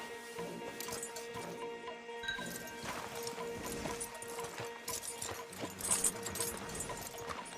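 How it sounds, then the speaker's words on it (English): Horses' hooves clip-clop steadily in Red Dead Redemption 2, a moderate rhythmic clatter with jingling tack and a faint whinny, while game characters speak over it. "Marston, you're gonna tether him up to Javier's horse."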